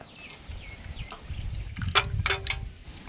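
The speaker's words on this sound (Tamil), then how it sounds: "இப்போ குளிர்ச்சிக்காக ஐஸ் கட்டி போட்டுக்கலாம்" Ice cubes dropped into almond milk, giving a couple of sharp clinks and plops around the middle, with faint liquid sloshing before and after.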